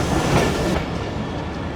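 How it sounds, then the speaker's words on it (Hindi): A train approaches Attock City Junction station slowly, rumbling loud and close with rhythmic wheel clatter on the rails, then the noise eases and thins partway through. "काफ़ी स्लो अप्रोच बना रही है ट्रेन।"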